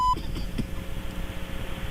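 Electronic beeps on a phone voicemail recording, a short bright tone near the start followed by faint beeping amid a rough, noisy line with a voice muttering underneath.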